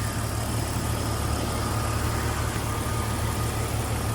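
A 1998 Jeep Cherokee XJ with a 4.0 inline-six idles smoothly, a steady even engine drone, close and constant with no talking over it.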